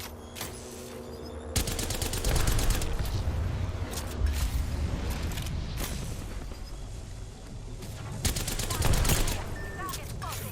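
Rapid gunfire from a weapon with heavy kickback crackles through a shooter video game, coming in loud, dense automatic bursts with short pauses between them.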